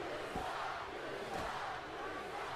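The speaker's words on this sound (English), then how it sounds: "They must be booing Kane" A steady, dense roar of an arena crowd in the WWE 2K15 wrestling game, booing Kane during his match with Mark Henry, holding at an even level throughout with no talk over it.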